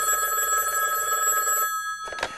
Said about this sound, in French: il reçut un coup de téléphone.